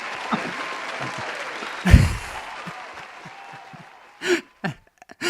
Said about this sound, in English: Here's the applause for the joke.